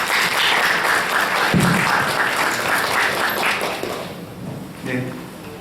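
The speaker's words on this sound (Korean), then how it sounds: "큰 박수로 맞아주세요." An audience at a carbon neutrality seminar applauds to welcome a speaker, a loud sustained wash of clapping that gradually thins and fades, with some voices coming through near the end.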